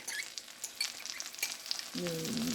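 Minced garlic sizzles in a lemon butter sauce, a soft close crackle with light stirring clicks, then a denser, louder frying hiss swells in for the final half second.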